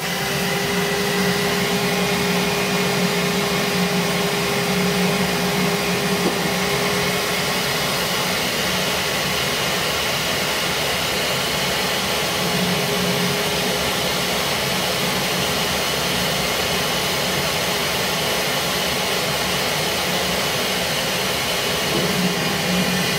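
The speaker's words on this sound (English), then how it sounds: "He comes running when I turn the vacuum on" A household vacuum cleaner runs steadily and close by, a constant droning whine with a broad rushing airflow that holds an even level throughout, with no talking over it.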